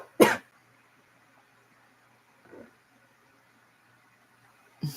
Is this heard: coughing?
yes